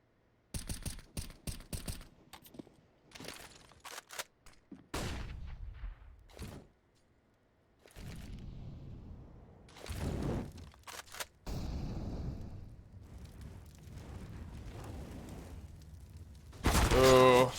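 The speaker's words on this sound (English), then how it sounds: "Oh, shots from Forrester" Gunfire in a Counter-Strike match on the Vertigo map, heard as scattered sharp shots and short bursts spread across the clip, mixed with other game sounds.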